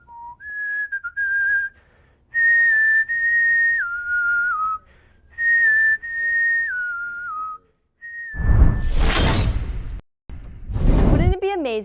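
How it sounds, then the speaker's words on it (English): A person whistling a tune, clear close melodic phrases with pauses between them, followed by loud rising whooshing sweeps near the end. "I'm pretty much whistling all the time, so whenever I'm at work, I'm whistling."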